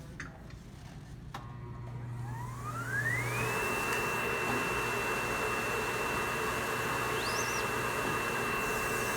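The vacuum table on an Artex screen printing press switching on, a motor whine climbing in pitch over about a second and then holding a steady, fairly loud drone over broadband airflow noise.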